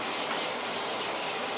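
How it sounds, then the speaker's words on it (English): Sandpaper rubbing back and forth over the painted surface of a Mercedes SLK55 AMG rear spoiler, a steady close hiss with rhythmic strokes about every quarter second, no voices. "I already sanded through that, so that's okay though."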